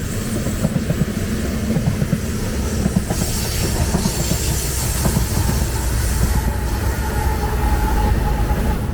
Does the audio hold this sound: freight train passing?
yes